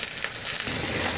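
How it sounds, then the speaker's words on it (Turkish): Eggplants fry in a small amount of oil, giving a brief, close, steady sizzle and crackle with no talking. "Patlıcanlarımı da aynı şekilde çok az yağda, yine çok az kızartacağım."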